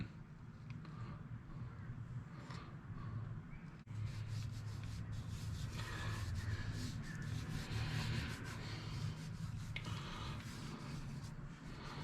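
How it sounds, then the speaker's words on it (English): Spice rub is worked by hand into beef ribs, a soft close rubbing and brushing texture that grows fuller and louder after a few seconds, with no voices over it. "I'm just going to sprinkle that on and then rub it in a bit."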